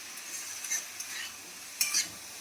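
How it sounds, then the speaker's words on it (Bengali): Prawns fry in a pan under a light sizzle while a utensil stirs them with a few sharp scraping strokes, two of them louder, close up and with no talk. "চিংড়ি মাছটা ভাজা হচ্ছে"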